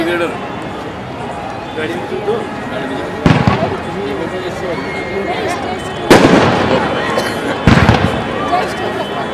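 Fireworks bang sharply at intervals, three or four loud bursts over a continuous background of crowd chatter and murmuring voices at a Gangaur festival in Lakheri, India.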